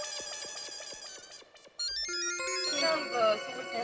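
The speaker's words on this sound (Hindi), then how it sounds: "एक बार दया भाभी से फोन करके बात कर लो, पूछ लो कि मामला कहाँ तक पहुंचा है।" A phone ringtone plays during a call in the Hindi sitcom Taarak Mehta Ka Ooltah Chashmah. A rhythmic tinkling tune gives way to brighter, sustained electronic tones, fairly quiet and unaccompanied by speech.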